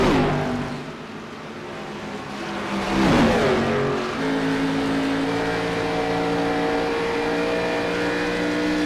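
Race cars in the iRacing sim at Chicagoland, one engine roaring close past around the midpoint with a rising-then-falling pitch sweep, followed by steady high-revving engine drone from the field, loud and without talk.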